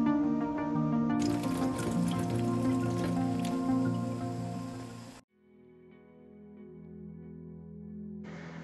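Potassium alum mordant water drains and drips during home natural dyeing, a dense pattering trickle that fades out midway and then returns as a quieter, steady dribble.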